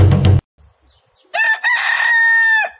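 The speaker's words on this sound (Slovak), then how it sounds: "toto je kohút" Rooster on a farm crowing once, loud and close: a long, strained cock-a-doodle-doo call that rises and holds before trailing off, preceded by a brief burst of clucking and a short quiet gap.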